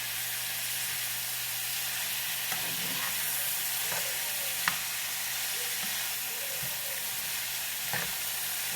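A pan crowded with vegetables for pepper steak sizzles steadily, a dense continuous hiss broken by a few soft pops and utensil taps, without speech.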